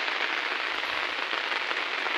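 Rain falls steadily outdoors, making an even, continuous hiss of drops with no pauses or voices.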